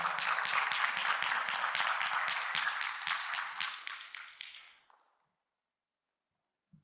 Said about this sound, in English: A big round of applause for IMSA Iran